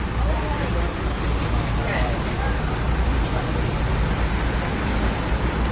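Harapan Jaya buses idle and move around a busy bus terminal in a loud, constant low engine rumble, with traffic noise and crowd murmur mixed in throughout.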